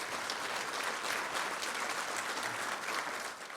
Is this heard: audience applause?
yes